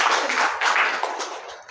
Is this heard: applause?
yes